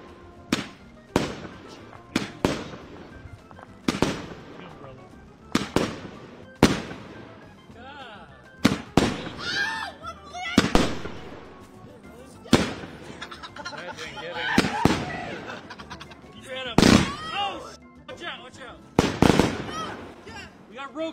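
Fireworks shells burst one after another in irregular loud booms and crackles spread over a long stretch, while people talk and react between the explosions.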